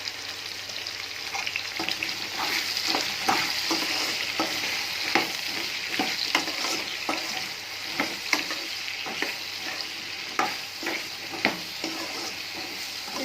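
Mango pickle ingredients roast in a pan, a steady loud sizzle broken by repeated scraping and clacking strokes of a spoon stirring, with no talking.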